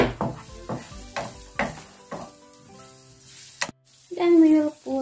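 Garlic hits a hot frying pan during goulash cooking, with a series of sharp crackling sizzle bursts at a steady rhythm, a brief silent gap, then a louder tonal scrape or clatter near the end.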